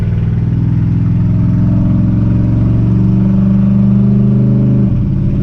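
A 1980 Chevy C10 pickup with a 700R4 automatic pulls hard in second gear, its loud engine droning steadily and rising slightly before easing off near the end.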